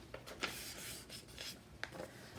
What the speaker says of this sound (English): Fold in half.